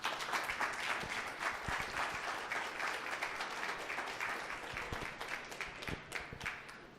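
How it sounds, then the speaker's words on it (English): An audience at an open house applauds for a guest speaker, steady dense clapping that holds for several seconds and tapers slightly toward the end, heard from within the room with no talk over it. "So please give a big round of applause for Ben Thorkelson."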